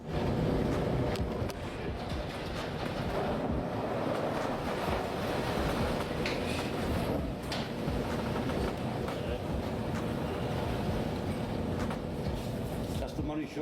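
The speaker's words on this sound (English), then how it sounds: "Just wait until you see the mother of all monster waves that they had to face" Huge ocean waves make a continuous heavy roar of surf, mixed with buffeting wind noise on the microphone, loud and unbroken throughout.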